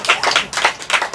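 Quick, steady hand clapping at a church service in Mumbai, a run of about six close, bright claps in rhythm from a group praising together, with no talk.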